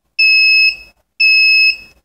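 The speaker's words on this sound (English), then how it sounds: "this will then go into lost model alarm mode and will start sending out that high-pitched peep" A lost model alarm on an RC model fitted with an Orange RX receiver in S.Bus mode gives two loud, high-pitched electronic beeps, each about half a second long with a short gap between, close by with no talk.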